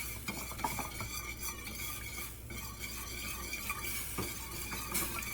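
Whisk stirring milk into a thick roux for béchamel sauce, a steady close scraping and swishing against the pan with faint sizzling and occasional metallic clinks, no voices.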